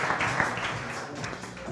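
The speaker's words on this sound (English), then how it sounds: "give him a round of applause" Audience applause greets a speaker taking the stage at a marketing conference, a brief dense wash of clapping throughout.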